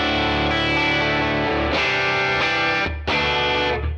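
An electric guitar played through a Tone King Imperial MKII Neural DSP amp model with the overdrive off rings out sustained chords, a short break, then another strummed chord, loud and close with a full, clean tone.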